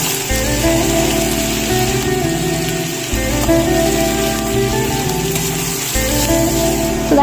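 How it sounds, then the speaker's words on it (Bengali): Carrots drop into hot oil after cashews for semolina upma and fry with a loud, steady, rain-like hiss and a few low thumps, close and continuous with no talk. "এবার ভাজা হবে গাজর। চলো গাজরটা দিয়ে দিই।"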